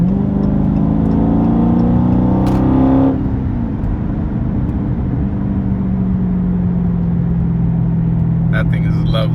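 A 2018 Dodge Charger Daytona 392 with a mid muffler delete revs loudly and close, its exhaust climbing and then settling into a deep, steady low burble for the rest of the clip.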